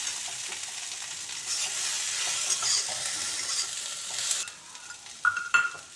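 Spices and Kashmiri chili powder fry in oil for a kudri dish, a bright steady sizzle with stirring scrapes that thins out, followed by a few louder clinks near the end.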